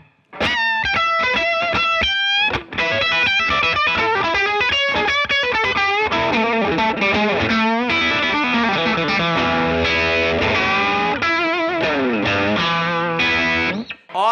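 An electric guitar, played with gain and run through effects, rings out loud and close with distorted, sustained chords and note runs, continuous for the whole stretch with only a brief pause, and no talking.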